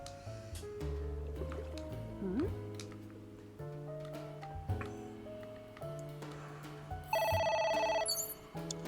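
A telephone rings inside the video game A.I.: The Somnium Files, a bright trilling ring that bursts in near the end over a layered game soundtrack of sustained tones and soft effects.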